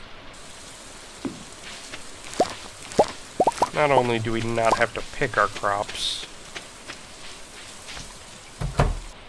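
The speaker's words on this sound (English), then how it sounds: "Those of you who can hear it in the background, we have a rainy day." Steady rain with scattered plopping drops falls in the farming video game Stardew Valley, sitting quietly in the background while someone talks over it.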